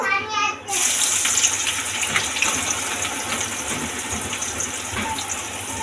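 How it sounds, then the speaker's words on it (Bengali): Finely sliced onions sizzle as they hit hot oil mixed with ghee for chicken biryani. A loud, dense, steady hiss and crackle runs throughout and begins abruptly as the onions go in. "তেল গরম হয়ে গেছে, এবার পেঁয়াজটা দিয়ে দেবো।"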